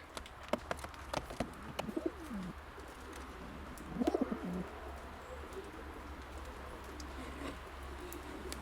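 Racing pigeons, pure De Klak stock, coo in low, rolling bursts, two clear calls a couple of seconds apart, over a quiet background with faint clicks and ticks.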